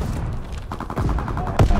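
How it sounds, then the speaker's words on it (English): A strafing run in Call of Duty: WWII, a burst of rapid aircraft gunfire stuttering loud and close, ending in a sharp heavy impact. "Strafing run."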